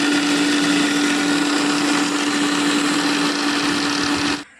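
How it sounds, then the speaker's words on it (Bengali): A kitchen blender whirs at a steady high speed, blending roasted mango with sugar, a loud continuous close-up motor whine with a strong pitched hum, running alone until it cuts off at the end. "চিনি দিয়ে আবারও ভালো করে ব্লেন্ড করে নেব।"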